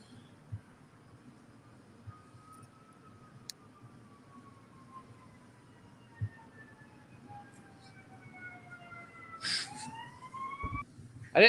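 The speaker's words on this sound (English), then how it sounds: "I didn't know there were police cars that had that kind of siren in 52." A faint, distant police car siren from around 1952 wails in long, slowly falling tones over a low hum and quiet background, growing slightly louder toward the end.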